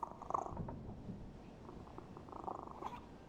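A low-poly cat in the video game The Thaumaturge purrs in a steady, rhythmic rumble close up, with faint soft clicks over light background tone and no talking.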